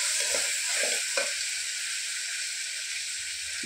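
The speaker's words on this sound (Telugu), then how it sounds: "ఆనియన్స్, సాల్ట్, పసుపు అన్నీ బాగా వేగిపోయినాయి" Onions, salt and turmeric frying in a pan give a steady close sizzle and hiss, with a few soft stirring scrapes in the first second or so, then a continuous even frying hiss.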